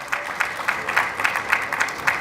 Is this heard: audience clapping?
yes